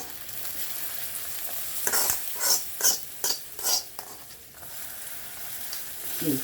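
Cashew nuts for payasam stir and rattle in a pan with a soft sizzle, giving a run of five or six scraping, clattering strokes in the middle after a quieter stretch.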